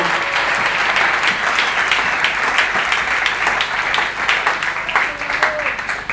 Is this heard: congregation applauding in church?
yes